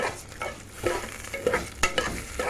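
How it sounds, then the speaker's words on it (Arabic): Vermicelli frying in ghee is stirred close up, with a soft sizzle and a series of scraping, clicking strokes of the spoon against the pot. "هقلب الشعريه"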